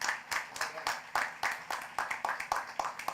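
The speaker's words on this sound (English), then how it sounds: "Let's give Dan and USCIS a round of applause." Sparse, rhythmic clapping from an audience at a naturalization ceremony, close and fairly quiet, with individual claps distinct rather than a dense roar.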